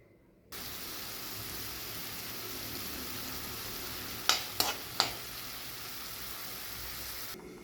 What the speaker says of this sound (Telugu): ఈ కొంచెం ఆయిల్లో టమాటాలు వేస్తున్నానండి